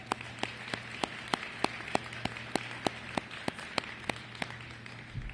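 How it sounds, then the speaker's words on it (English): At a food hub opening in Greater Boston, sparse, evenly spaced claps ring out in a steady rhythm, quiet and distinct, sounding like only a few people clapping rather than a full crowd. "give yourselves a round of applause"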